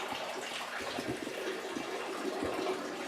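Water drains from a small model canal lock chamber, a steady low rushing and gurgling with soft splashes, continuous and moderately close.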